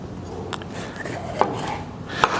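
A knife cuts red, yellow and orange bell peppers into thin slices on a cutting board, giving a few soft, irregular chops with faint board scrapes between them.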